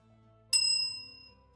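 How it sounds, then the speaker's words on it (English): A butler's service bell struck once at close range, a bright loud ding that rings on and slowly fades over about a second, with no talk. "That was my bell. Sorry if that was a bit loud."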